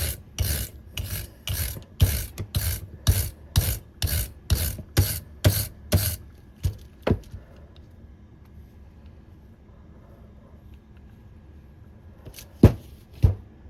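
A wire brush scrubs rust off the threads of a vintage monkey wrench in about a dozen loud rhythmic rasping strokes, then stops, followed by a few isolated scrapes near the end.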